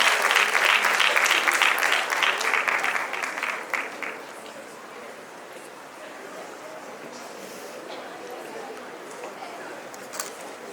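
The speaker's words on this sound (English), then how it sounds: "Please give them a big round of applause." Audience applause at a national debate and excellence awards ceremony, loud and dense for about four seconds, then tapering into softer scattered clapping and room murmur.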